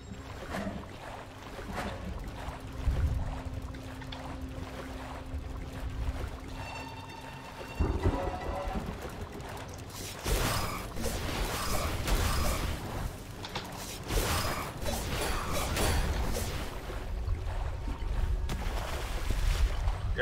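Water sloshing and rushing as a character swims up a waterfall in the video game Amid Evil: a steady wash of splashing that runs throughout, with creaky mechanical clunks layered in.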